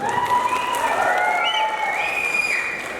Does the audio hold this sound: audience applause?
yes